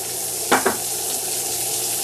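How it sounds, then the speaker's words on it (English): Onion and pepper frying in a buttered pan, an even close sizzle with two quick scraping clatters early on, then a steady hiss to the end. "I'm going to go back to my pan here. I'm going to put in my onion. I'm going to put in my pepper."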